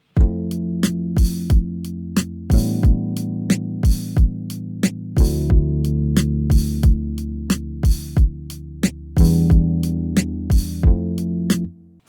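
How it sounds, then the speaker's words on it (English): Sustained chord-root bass notes play over a drum groove and chord progression, steady and loud with no talk, with punchy drum hits on a regular beat and the low notes shifting as the chords change. "the most basic form of a bass line right here would be to just play the bass"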